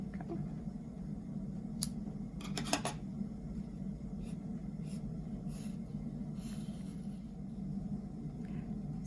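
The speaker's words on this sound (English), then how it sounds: "cut a really long piece of string because you want to have enough wool to make a keychain" Scissors snip through a long piece of wool yarn in a few short, faint crisp cuts over a steady low background hum, with no talking.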